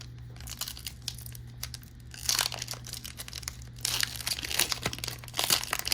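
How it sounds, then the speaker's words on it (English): Crinkly plastic wrapper of a Spanish Pokémon card booster pack being handled and torn open, with bursts of crackling and tearing close up over a low steady hum. "first time opening a Spanish pack"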